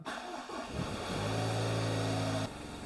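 A Jaguar F-Type engine running rough with misfires, heard close up as a loud, steady idle drone with an uneven, shaky undertone that holds for a couple of seconds before easing slightly.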